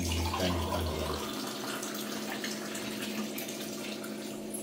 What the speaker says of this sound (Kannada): ಈ ಗ್ಲಾಸ್ ಅಲ್ಲಿ 4 ಗ್ಲಾಸ್ ನೀರು ಒಯ್ಬೇಕು.